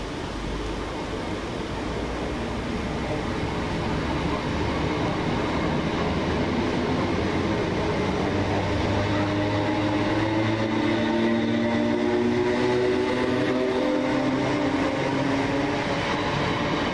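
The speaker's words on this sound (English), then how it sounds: "802213 flies towards Liverpool now, working 9M18 for TransPennine Express, coming from Newcastle." A TransPennine Express train bound for Liverpool from Newcastle speeds through Lea Green station, a loud continuous roar with rising and falling tonal whine from the passing units, heard alone without speech.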